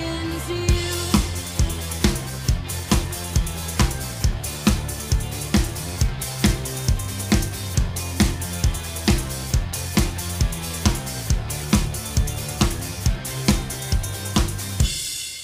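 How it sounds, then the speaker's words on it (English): Full drum groove at tempo from a song: hi-hat, snare and tambourine over a steady four-on-the-floor bass drum, loud and tightly rhythmic throughout with a bass line running beneath. "And now let's add the 4 on the floor bass drum, and up to speed, it sounds like this."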